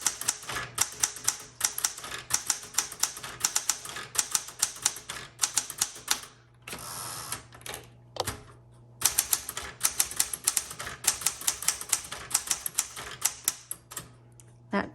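Typing on a 1967 Smith Corona Classic 12 typewriter, rapid clacking keystrokes in bursts with brief pauses and a sharp carriage return in the middle, close and crisp.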